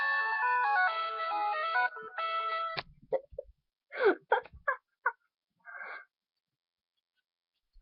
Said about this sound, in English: This video is just gonna be ringtones now.